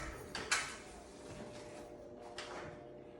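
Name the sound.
brand-new ladder creaking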